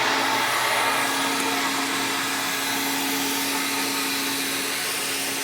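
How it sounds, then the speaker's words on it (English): A mattress claw extraction tool pulls moisture from a mattress while cleaning, giving a loud, steady suction roar with a faint whine throughout, close and unbroken with no talk. "I'm going to use the mattress claw to pull that out"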